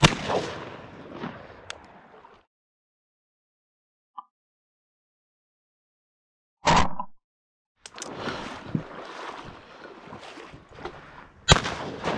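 A 28 gauge shotgun fires while duck hunting in Wyoming, giving a single loud, sharp blast midway through, bracketed by outdoor rustling and handling noise with a long quiet gap before it.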